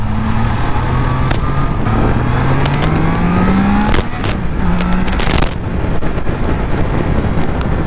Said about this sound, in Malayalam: ഇൻലൈൻ 3യുടെ സൗണ്ട് എന്ന് പറയുന്നത് ഒരു വിസിലിങ്ങോട് കൂടിയുള്ളൊരു സൗണ്ടാണ്